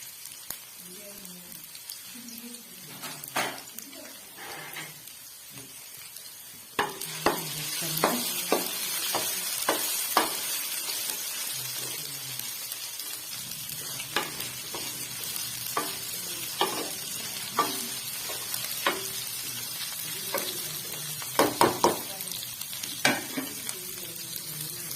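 Okra (bhindi) frying in a kadhai, a steady close sizzle that jumps louder as the pieces go into the hot oil, broken by repeated scrapes and clacks of a spoon stirring.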